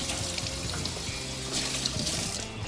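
Tap water runs steadily over bell peppers being rinsed out in a kitchen sink, a continuous close splashing flow with no talking.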